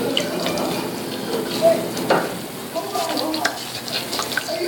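Tap water runs steadily into a tub to bathe a pet, a close splashing flow with occasional small clinks and sloshes and no voices over it.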